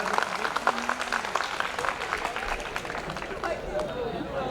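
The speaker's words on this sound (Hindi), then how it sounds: "एक बार मुझे जोरदार तालियां बजाकर इजाजत दें" Mushaira audience in Gorakhpur breaking into applause, dense clapping mixed with crowd noise and chatter, fairly close, with voices over it throughout.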